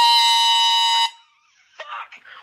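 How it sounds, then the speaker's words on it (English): A loud, piercing air horn blares for about a second and cuts off abruptly, followed by brief faint talking. "Is that an air horn?"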